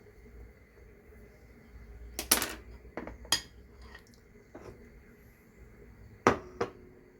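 A knife cutting garlic on a board gives a handful of sharp, isolated knocks, sparse and irregular over quiet background, with no talking.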